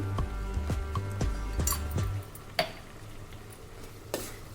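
Stirring carrot halwa in a pan over low heat just after cardamom powder goes in: several rhythmic scraping strokes with a soft sizzle beneath, then quieter isolated clinks and scrapes near the end, with no talking.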